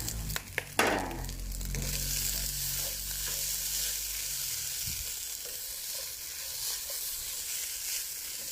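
Sliced kaffir lime leaves hit a wok of fried rice with budu chili paste, setting off a broad, steady sizzle after a few sharp clatters at the start, continuing evenly and fairly loud throughout.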